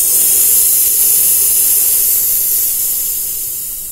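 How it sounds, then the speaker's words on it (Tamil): Air hissing loudly out of a motorbike tyre valve pressed open with a tester, a steady close rush of broadband noise that gradually softens toward the end. "டெஸ்டர் எடுத்துட்டு இந்த மவுத்தில் இருக்க எல்லா காத்தையும் ரிமூவ் பண்ணி விட்ருங்க"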